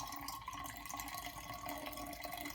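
Filtered water poured steadily from a measuring cup, a continuous faint splashing trickle with no talk.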